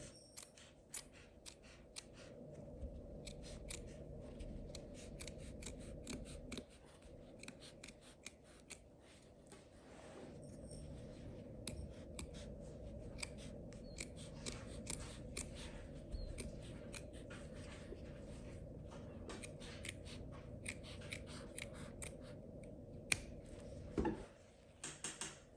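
Scissors cutting steadily along a marked line through upholstery fabric for a chair repair, a long run of rapid close snipping clicks over a soft rustle of cloth, with no talk.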